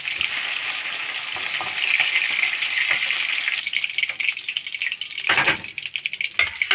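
Large tilapia fish fry in hot oil in a pan. A loud, steady hiss and crackle holds for several seconds, then breaks into choppier spatters with a few utensil knocks near the end.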